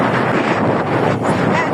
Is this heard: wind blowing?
yes